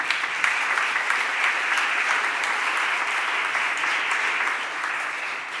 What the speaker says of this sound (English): Let's again give them a round of applause and welcome to City Council.